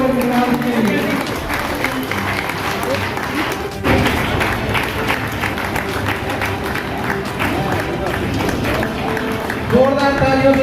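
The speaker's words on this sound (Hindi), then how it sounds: "जोरदार तालियों से स्वागत करिए हमारी दिल्ली की नीलोत्पल मृणाल जी।" Audience applause at a grand comic poetry gathering (hasya kavi sammelan) on the NTPC campus in Kahalgaon, Bhagalpur, welcoming a poet; steady, dense clapping from a large crowd continues throughout, with an announcer's voice over it.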